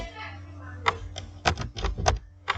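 A computer keyboard typed on during a Microsoft Excel lesson, a few separate key clicks in a short uneven burst, close and fairly quiet over a low steady hum.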